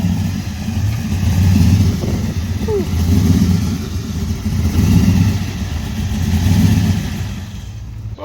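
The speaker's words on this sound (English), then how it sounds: "this Charger sounds ridiculous" A Dodge Charger engine revs loudly at a car show, its deep rumble swelling and easing in several waves, with one brief exclaimed word from a person partway through.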